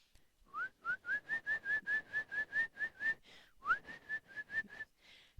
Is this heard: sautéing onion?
no